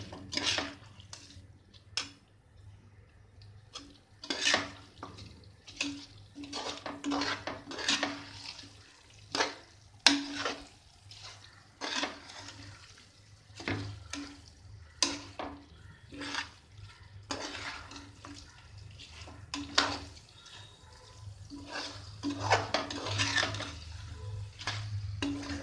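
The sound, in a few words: stirring soaked basmati rice in a pot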